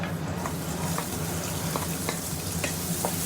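Chopped onions frying with cumin in a home kitchen, a steady, close sizzle with faint clinks of a spoon against the pan running throughout.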